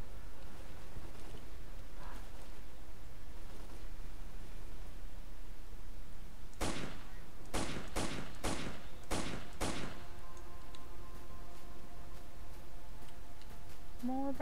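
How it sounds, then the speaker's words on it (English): Gunfire between bandits in the video game Lost Alpha: a quiet stretch, then a rapid burst of several loud shots in quick succession, followed by ambient background noise. "Who is shooting at whom?"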